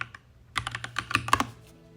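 Typing on a computer keyboard during a browser search for Homebrew on a Mac, with a short run of close, crisp key clicks, a few isolated taps and then a quick flurry.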